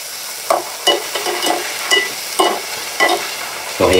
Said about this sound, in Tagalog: So guys, so ngayon magpiprito na tayo ng ating pusit or ng ating squid mga kaibigan.